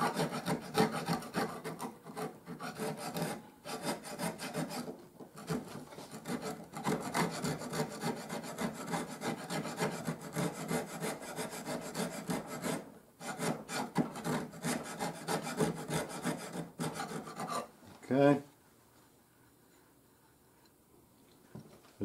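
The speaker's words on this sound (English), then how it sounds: "let me get the side float and try and trim that down" A side float rasps back and forth inside a wooden wedge pocket of a hollow and round plane, trimming a high spot with steady rhythmic strokes and brief pauses, before a knock and quiet near the end.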